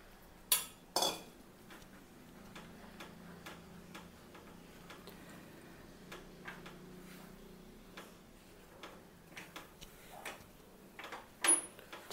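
A spoon stirs and scrapes a wheat flour and fig modak mixture in a pan over a very low flame: sparse, faint clicks and taps of utensil against metal, with a few louder knocks near the start and end.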